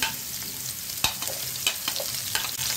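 Pointed gourd and potatoes with five-spice and dried chili stir-fried in a pan: a steady oily sizzle with several sharp scrapes and clanks of the spatula at close range, no voices.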